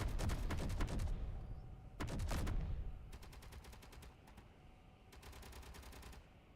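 Bursts of automatic gunfire in the video game Space Engineers, several rapid volleys separated by short gaps, loud and close, with no voices.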